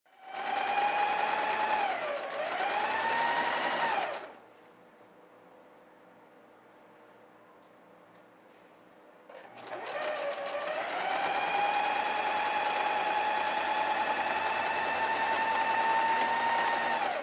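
A sewing machine stitches a zigzag seam on a girl's dress, running loud and steady in two long bursts separated by a few seconds of near silence.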